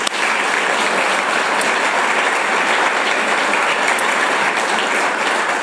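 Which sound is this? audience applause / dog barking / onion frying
audience applause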